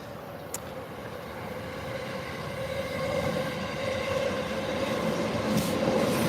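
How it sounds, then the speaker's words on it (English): A train rolls past on the tracks in a Tokyo backstreet, a continuous rumbling roar with a steady tonal hum that builds slightly louder as it nears, plus faint rail squeals, no talking. "all the trains disappear, except for this one"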